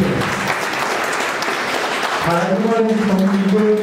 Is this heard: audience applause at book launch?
yes